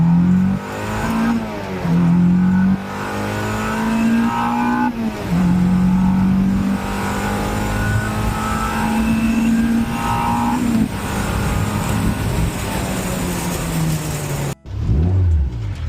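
A 6-speed NC Mazda Miata with a new shifter bushing and plate is heard from inside while driving. Its engine hums and rises through the revs, dropping in pitch at each gear change, and is loud and close before cutting off near the end.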